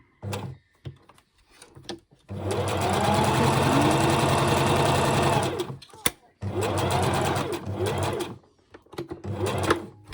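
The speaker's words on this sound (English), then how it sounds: "Couple of reverse stitches on that one." A sewing machine runs a long burst of stitching on a washable face mask, then stops, then runs a second shorter burst that includes a few reverse stitches. Sharp clicks and handling noises sit between the runs, and a person talks faintly.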